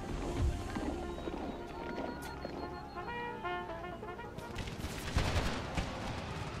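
Musket gunfire from an American Civil War video game, with scattered volleys and shots crackling over a busy battle soundscape of tonal music or effects, fairly loud and continuous.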